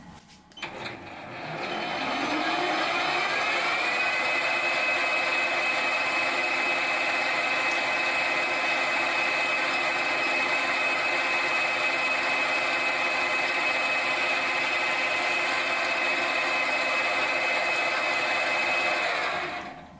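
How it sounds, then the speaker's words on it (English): A lathe machining a brass bar for a Farm Boy hit-and-miss engine fuel mixer: the motor spins up, then holds a loud, steady whining hum with a bright tonal ring for the whole stretch before winding down. "I'm going to machine it out of this piece of brass bar"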